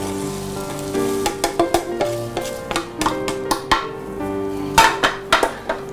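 Half a kilo of lightly roasted flattened rice is stirred into coconut and melted jaggery in a pan, the metal spoon knocking and scraping in rapid, irregular clinks, loud and close, with no talking.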